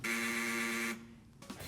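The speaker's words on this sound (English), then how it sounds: "that buzzer means the end of our match" A quiz show buzzer sounds once to end the match, a loud, harsh, sustained electronic tone lasting about a second, then cutting off sharply into quiet room noise.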